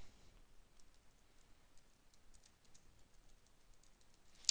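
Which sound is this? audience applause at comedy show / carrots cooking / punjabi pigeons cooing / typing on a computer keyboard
typing on a computer keyboard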